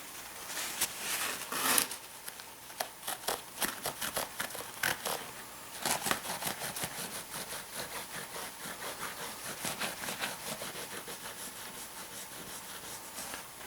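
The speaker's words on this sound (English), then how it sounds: "I'm just going to take a paper towel here with a little bit of mineral spirits on it, and I'll clean the tops of the rails off" A paper towel dampened with mineral spirits rubs and scrubs along the tops of HO scale model railroad rails, soft rapid scratchy strokes repeating close up, steady and quiet, with no voices.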